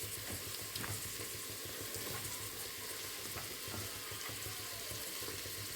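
Vegetables with tomato stirred in a hot pan for a vegetable biryani, a continuous soft sizzle with faint scraping strokes, steady and fairly quiet throughout, no talking.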